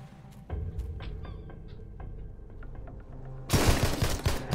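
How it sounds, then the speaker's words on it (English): Heavy machine gun fire in the Sunkenland game, bursts of shots under a low rumble that swell into a loud, dense barrage near the end. "Some heavy machine gun, run!"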